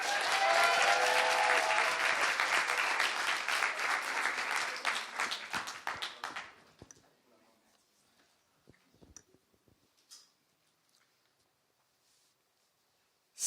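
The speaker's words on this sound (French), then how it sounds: "je vous demande d'applaudir Baptiste" An audience at an eloquence contest applauds a speaker, dense loud clapping for about six seconds that thins into scattered claps and fades to near silence.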